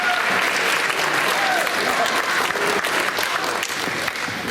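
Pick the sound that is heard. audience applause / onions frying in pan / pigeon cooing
audience applause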